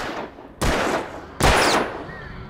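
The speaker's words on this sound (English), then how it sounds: "Oh, Alan, shoot the cans." Two sharp gunshots in Alan Wake, fired at cans about a second apart. Each is loud and close, with a short reverberant tail fading into quiet ambience.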